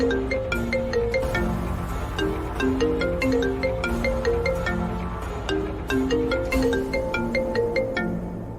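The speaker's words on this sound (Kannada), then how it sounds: "ಇವ್ರು ಯಾಕೆ ಫೋನ್ ಮಾಡ್ತಿದ್ದಾರೆ?" A phone ringtone plays a bright, repeating melodic tune loudly and steadily from start to finish in a domestic drama scene, with no voices over it.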